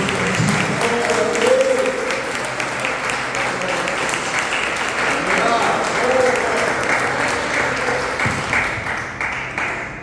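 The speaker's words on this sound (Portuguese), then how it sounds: "Pode aplaudir o Senhor." A church congregation claps together in a steady, dense round of applause, with a voice or two rising briefly over it before it thins out near the end.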